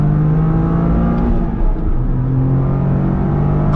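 Inside a 2023 Toyota GR Corolla on a race circuit, the three-cylinder engine drones loud and close under load, holding a steady pitch before a brief dip and recovery.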